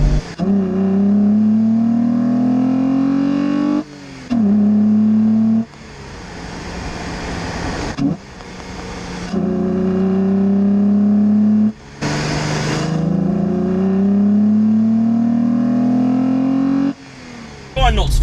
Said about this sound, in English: it's making some really lovely VR6 noises today